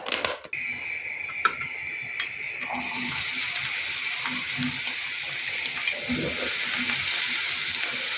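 Steady crackling sizzle of onion frying in hot oil, close and continuous, with occasional stirring clinks.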